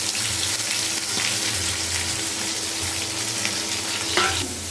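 Chopped onions with spices frying in a pan for a beef tripe dish, a steady broadband sizzle with occasional stirring scrapes and a brief louder crackle near the end.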